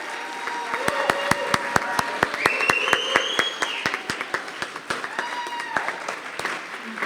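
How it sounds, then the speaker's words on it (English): Audience applause for graduates at a graduation ceremony: steady, dense clapping from a crowd fills the whole stretch, with sharp individual claps standing out and a few faint voices mixed in. "let's start off with our first graduate and have a big round of applause for Colton Weekly"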